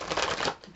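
Tarot cards being shuffled by hand, a brief, close papery riffling and flutter lasting under a second with no voices.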